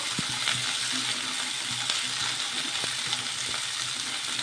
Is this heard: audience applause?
no